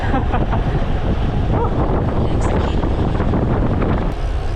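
Strong wind buffets the microphone during a bicycle tour in Gelibolu, Çanakkale, with a constant loud rumbling roar, steady throughout with no talking.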